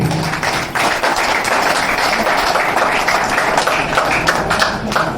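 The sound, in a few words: audience applause at a swearing-in ceremony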